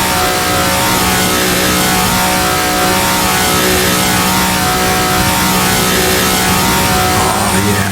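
A small Abarth car engine revs hard and accelerates flat out in a Targa Florio racing game with traffic, a loud, steady, buzzing drone that stays near and constant the whole time.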